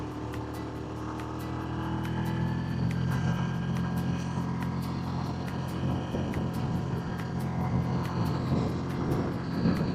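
Steady droning rotor and engine noise from a helicopter overhead on Mount Teide, Tenerife, constant and moderately loud throughout with no talking.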